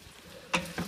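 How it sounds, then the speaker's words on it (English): Yellow courgettes frying in a pot give a soft background sizzle, with two brief sharper bursts of stirring or sizzling close by near the end. "the idea of actually frying the courgettes before"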